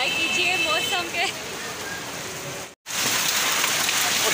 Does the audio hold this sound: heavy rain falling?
yes